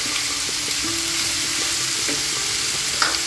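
Ginger paste hitting a hot frying pan and being stirred for a shrimp and ash gourd curry, a steady soft sizzle with faint scraping strokes throughout and no voices.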